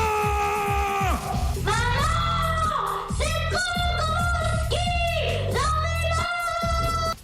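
Several people scream and wail from a played recording, long sustained shrill cries rising and falling in overlapping bursts, loud and close, with brief gaps between screams.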